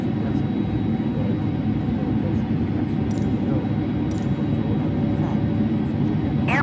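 Airbus A310 engines in Microsoft Flight Simulator 2020, a loud continuous low jet rumble and whine at Murtala Muhammed after landing, steady and close, with a few faint clicks.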